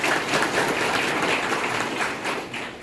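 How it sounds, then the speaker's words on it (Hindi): Applause from an audience at a public gathering in Madhya Pradesh welcomes a speaker, a steady wash of many hands clapping that holds for about three seconds and eases slightly near the end. "बड़ी बहन निर्मला भूरिया जी का तालियों से स्वागत करेंगे हम।"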